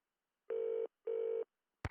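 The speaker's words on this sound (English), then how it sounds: "I'm calling from a phone in Ireland." A telephone rings twice in the Nancy Drew game The Haunting of Castle Malloy, each clean electronic ring about a third of a second long and close, followed by a short click as the line is picked up.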